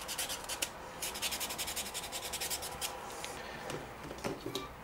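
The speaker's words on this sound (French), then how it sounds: "Donc je prépare mon ongle. Bon, je le ponce un petit peu." Fingernail being sanded with a file before applying a nail-art tip, a close, steady series of quick rasping strokes with a rhythmic scratchy texture, with no talking.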